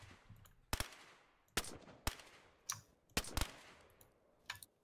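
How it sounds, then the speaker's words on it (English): Gunfire from a firearm in the video game DayZ: loud, sharp shots in irregular bursts, some single and some close doubles, each dying away with a short echo. "That gun's fucking loud"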